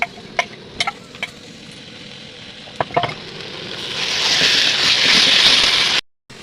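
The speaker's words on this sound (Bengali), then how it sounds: "এবার আমরা একটু কষে নেবো" Onions with ginger-garlic paste being stir-fried for a red desi chicken curry at a picnic: a few spoon clinks at first, then a loud, rising sizzle, close by, with no talk.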